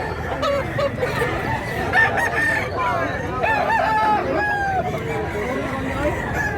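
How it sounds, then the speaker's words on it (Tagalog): A rooster crows several times at moderate distance among other fowl clucking, with people talking in the background at a gamefowl gathering in Mantalungon, Cebu. "Gandang manok."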